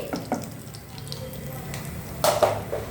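Mustard seeds, cumin and chana dal splutter in hot oil as a tempering: close, steady crackling with scattered pops that grow into a few louder bursts near the end.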